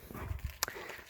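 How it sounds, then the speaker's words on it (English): A dog barks once sharply in the background outdoors, a single brief yelp amid soft ambient rustling and low thumps, fairly faint and distant. "You hear my crazy dog in the background."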